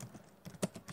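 A few sharp keystrokes on a computer keyboard as a Linux terminal command is typed, with one louder clack near the middle among softer clicks, close and fairly quiet.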